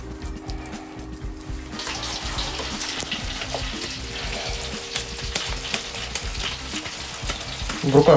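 Oil sizzles steadily in a pan set over low heat, a continuous bright crackle and hiss close by, with faint clinks and a brief louder rattle at the very end.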